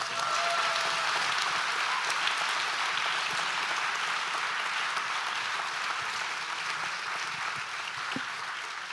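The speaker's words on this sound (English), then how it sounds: "How about one more round of applause for everybody?" Applause from an audience at an award ceremony, a dense steady wash of many hands clapping at moderate distance, fading slightly toward the end.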